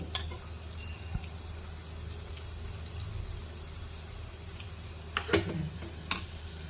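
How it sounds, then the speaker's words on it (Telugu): Lentils being stirred into bubbling sugar syrup in a pan, a soft steady sizzle and bubbling with occasional louder scrapes of the spoon, close and fairly quiet. "పాకంలో మొత్తం పప్పు అయితే వేసి కలుపుతున్నాను"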